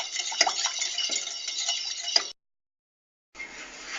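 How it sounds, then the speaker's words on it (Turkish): Rice flour pudding being stirred in a pot until thick: a spoon scrapes and clinks against the metal in close, soft strokes, cutting to silence for a second before the stirring resumes. "Ve koyulaşıncaya kadar karıştırıyoruz."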